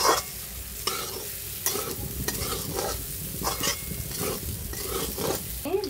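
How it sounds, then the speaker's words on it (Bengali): Sabudana khichdi with boiled potato is stirred in a pan, giving repeated scraping strokes over a steady close sizzle that runs for several seconds with no voices. "আমরা এটাকে এখন ভালো করে একটু মিশিয়ে দিই"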